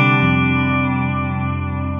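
Electric Stratocaster-style guitar through its Virgil Arlo 1954 bridge pickup, a sustained chord ringing out loud and steady with effects-style echo and chorus shimmer, after a brief quick attack at the start, no voices.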